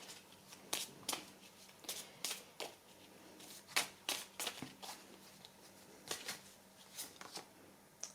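Tarot cards are shuffled by hand, giving a quiet, irregular series of crisp snaps and riffles with short pauses between them. No voices are heard.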